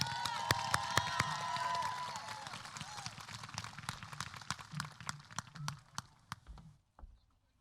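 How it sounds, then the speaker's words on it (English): Audience applause at a high school graduation ceremony, a sustained crowd of clapping hands with scattered sharp claps, fading out near the end. "Let's give them one more round of applause"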